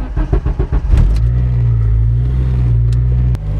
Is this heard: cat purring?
no